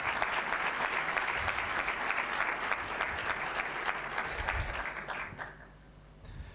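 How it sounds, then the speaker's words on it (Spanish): Sustained audience applause at a presentation of a new penal code draft, loud and dense for several seconds before tapering off near the end. "recibo con un aplauso"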